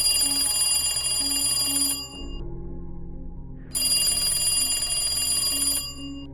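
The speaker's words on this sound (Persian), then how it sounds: "صدای اون تلفن قدیمی بود" An old telephone rings loudly and continuously in a steady electronic trill, breaking off briefly before resuming, close and alone without voices.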